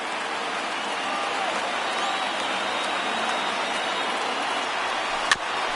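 Video game baseball stadium crowd of over 38,000 roars in a steady, dense wash of cheering and applause, with a brief sharp hit near the end.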